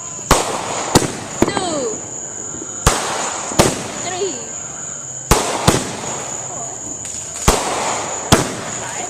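A 36-shot fireworks cake fires outdoors, with sharp loud bangs going off one after another at irregular intervals and crackling between them, while people talk and count in the background.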